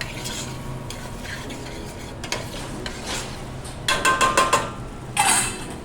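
Close-up stirring of mussel escabeche in a pan with finishing flavors added, a spoon scraping and clinking against the metal over a faint sizzle, with a cluster of quick rhythmic knocks near the end.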